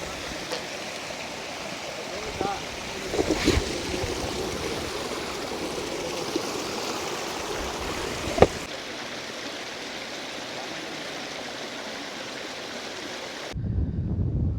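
A fresh mountain stream on Hosahalli Gudda hill near Sakleshpur in the monsoon rushes steadily, a continuous broadband wash with occasional splashes and knocks, ending abruptly with a brief different background.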